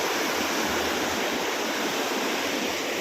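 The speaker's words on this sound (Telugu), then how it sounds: "నీళ్ళు చూడండి ఫ్రెండ్స్ ఎట్లా పోతున్నాయో" Steady rushing rainwater flows continuously without a break, a dense broadband wash of sound close by, with no voices over it.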